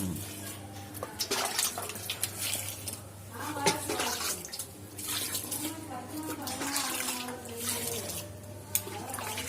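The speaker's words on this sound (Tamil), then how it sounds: "ஒரு அஞ்சு பவுல் வரைக்கும் தண்ணி எடுத்துகிட்டு நம்ம யூஸ்ஃபுல்லாக மிக்ஸ் பண்ணுற மாதிரி" Water being poured into a bowl of wheat bran feed for goats and chickens, a steady splashing and trickling stream with gurgling throughout, moderately close.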